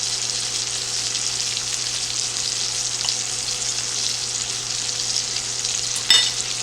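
Steak sears in butter in a hot pan, giving a steady, loud, close sizzle and crackle that runs throughout with no voices.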